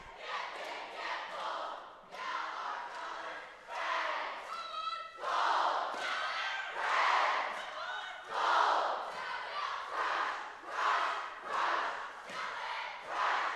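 A big crowd at a district cheerleading championship shouts in loud rhythmic unison, its chanted cheers rising and falling in waves that fill the gym for the whole stretch.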